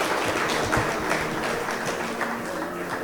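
Steady crowd applause for golf coach Peter Lakshman Singh, dense continuous clapping from many people at an even level throughout, with no voice over it.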